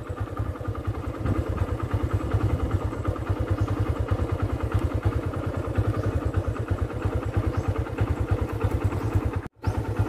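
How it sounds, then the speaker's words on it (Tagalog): Motorcycle engines chug with a steady, rapid low throb on a landslide-damaged road, loud and close, a continuous idling-like pulse that cuts off abruptly near the end. "nahihirapan yung mga motor na dumadaan"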